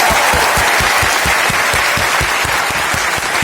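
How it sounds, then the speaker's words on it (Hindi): A large crowd in Bapu Sabhagar hall in Patna applauds loudly for Dashrath Manjhi, a sustained, dense roar of clapping with some rhythmic beats running through it. "बापू सभागार की इस पवित्र भूमि से दशरथ मांझी के लिए जोरदार तालियां बजनी चाहिए"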